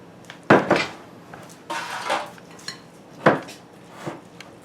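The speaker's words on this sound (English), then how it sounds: "So we'll just use this spatula since it's already in there. I guess we'll just keep on stirring." A spatula stirs thick chocolate zucchini bread batter in a bowl, producing a few irregular, close scraping knocks and clacks against the bowl with quiet gaps in between and no talking.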